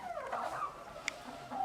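A young Brahma rooster, not yet fully grown, gives a short run of close, fairly loud calls, with a brief bright peep partway through and another call rising at the end.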